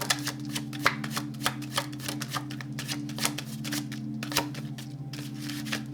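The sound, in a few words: shuffling a deck of tarot cards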